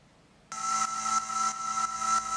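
A tweaked Pro 3 analog synth patch with heavy EQ cutting the low and top end plays a sustained, bright buzzing tone with a steady pulsing rhythm, loud and alone after a quiet start.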